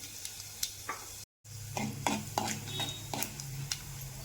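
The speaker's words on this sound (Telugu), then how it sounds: "వేడైన తర్వాత ఆవాలు, జీలకర్ర, పచ్చెనపప్పు, 2 ఎండుమిరపకాయలు తీసుకొని వేస్తున్నాను" Mustard seeds, cumin, chana dal and two dry red chilies crackle and sizzle in hot oil, sharp pops and spatters over a low hiss with a short gap of silence near the start.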